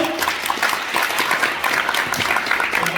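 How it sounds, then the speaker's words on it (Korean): An audience at the 2023 KARA prize-giving ceremony delivers a big round of applause, dense and continuous clapping filling the room at close, steady loudness throughout. "큰 박수 보내주십시오."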